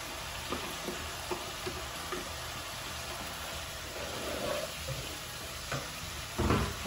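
Cooking spinach with smoked fish and beef is stirred in a pot, with soft scraping and stirring clicks over a steady sizzle, plus a louder scrape near the end.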